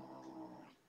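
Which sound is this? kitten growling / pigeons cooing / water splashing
kitten growling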